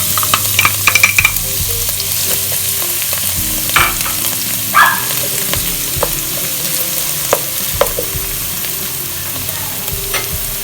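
Celery and grated garlic sizzle in olive oil in a pan, a steady frying hiss with frequent scraping stir strokes and scattered clinks throughout.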